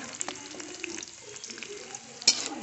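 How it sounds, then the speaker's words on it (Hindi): Cauliflower fries in a pan with a low, continuous crackle, broken by a few light utensil clinks and one sharper clatter near the end. "देखिए मेरी गोभी अच्छी फ्राई हो चुकी है"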